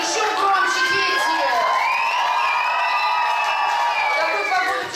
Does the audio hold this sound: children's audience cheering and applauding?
yes